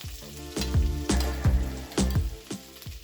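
Chopped ginger and garlic sautéing in butter over a low flame, a soft, close sizzle punctuated by rhythmic stirring strokes and scrapes about twice a second, with no talk.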